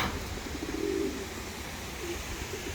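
A tumbler pigeon gives one soft, low coo, then a brief second murmur, faint against a steady background hiss.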